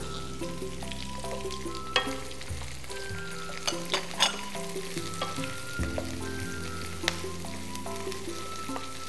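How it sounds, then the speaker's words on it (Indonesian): Onions and chilies fry in a hot pan over high flame, giving a continuous close sizzle with scraping stirs and occasional clacks of the utensil against the pan. "Masaknya, apinya kita besarkan agar lapisan luar dari cabai maupun bawangnya matang"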